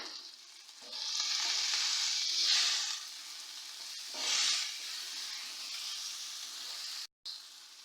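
Finely chopped tomatoes hit hot oil in a pan, setting off a loud sizzle that swells twice as they are stirred, then settles into a steady frying hiss, with no voices.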